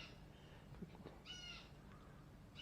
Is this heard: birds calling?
yes